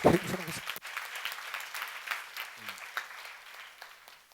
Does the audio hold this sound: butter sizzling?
no